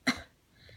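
A narrator reading aloud imitates a single short, sharp cough, one harsh burst that quickly fades into quiet.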